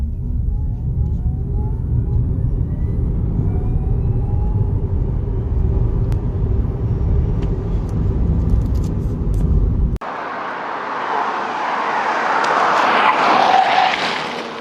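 An Xpeng P5 electric car pulls away hard from a standstill, a steady loud rumble of road and motor noise building without tyre squeal, then shifting to broader wind-rushing noise as speed rises.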